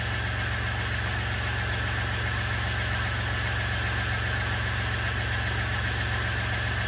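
A 2015 Ram 2500 with a 3.0L EcoDiesel engine idles with a steady low drone and constant vibration hum, close and even throughout, no talking.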